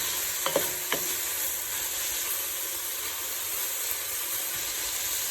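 Vegetables for a white bean and kale soup sweat in a pan on a gas stove, giving a steady soft sizzle and hiss, with a couple of brief utensil clinks near the start.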